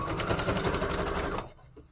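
A sewing machine running a standard number 4 stitch, its rapid, even mechanical chatter loud and close for about a second and a half before stopping abruptly, leaving near silence.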